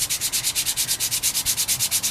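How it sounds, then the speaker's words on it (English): Sanding an EffanBee Patsy doll body by hand, a close rhythmic scratching of quick even back-and-forth strokes, about eight per second, steady and alone. "So we're just going to start sanding her."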